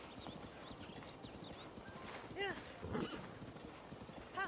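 Horse hooves clip-clopping in Breath of the Wild, a rhythmic galloping patter under game ambience, with a couple of brief whinnies and chimes standing out partway through.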